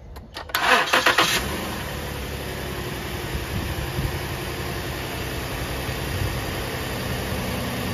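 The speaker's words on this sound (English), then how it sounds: "Your car has been started." Car engine cranked and started with a jump from an RC LiPo battery: a brief starter whir catches, then the engine settles into a steady, close idle for several seconds with no talking.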